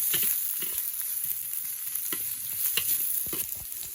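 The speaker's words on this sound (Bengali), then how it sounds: "তারপরে যাচ্ছে পেঁয়াজ কুচি, চলে গেল। এবার একটু নেড়ে নেওয়া হবে।" Chopped onion stir-frying in a pan for Bengali-style chowmein, with green chilli already added: a steady close sizzle with repeated scraping and stirring clatter throughout, no voices.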